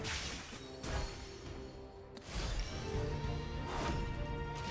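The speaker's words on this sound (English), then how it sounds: "The Wyvern smashes into General Purgus, pushing the entire team up" A game Wyvern smashes into General Purgus with loud crashing impacts, a dense clash of hits around two heavy thumps, busy and close throughout.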